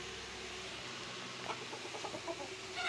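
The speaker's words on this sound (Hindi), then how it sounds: "कुछ देसी ये मुर्गियाँ ना वो बाहर छोड़ी हुई हैं" Free-roaming desi hens on a farm in the midday heat cluck softly in short scattered bursts, with faint clucks and calls rising toward the end over a steady low background.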